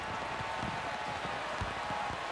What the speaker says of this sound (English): You hear the heavy rain now thumping on our microphones on the field.